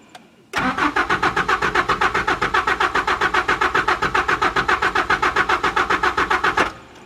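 A Mazda B2600i pickup's starter cranks the engine steadily for about six seconds, a loud, even chugging rhythm of rapid compression pulses that never catches before it cuts off abruptly. The truck has a suspected dead fuel pump.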